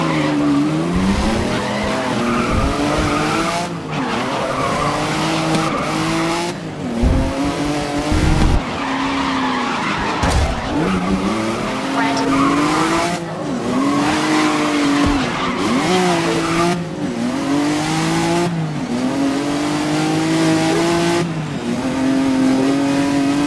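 Race cars in the video game Grid 2019 on a last lap, engines revving loud and near and shifting pitch, with repeated tire squeals and skids through corners and no talk.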